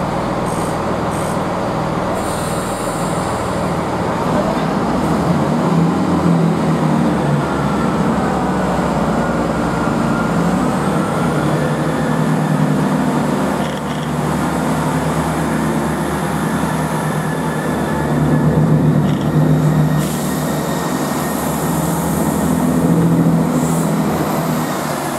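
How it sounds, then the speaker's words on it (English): A GWR Class 166 diesel train pulls away from Worcester Shrub Hill, a steady loud rumble and drone lasting throughout with no voices. "departs Worcester Shrub here for Worcester Foregate Street."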